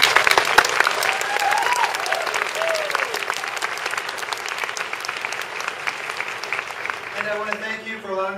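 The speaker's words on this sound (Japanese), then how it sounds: "拍手を送りたいと思います。" A large crowd claps and cheers at an Ingress after-party in Tokyo following the anomaly event, dense sustained applause with a few voices and whistles, lasting throughout and tapering near the end.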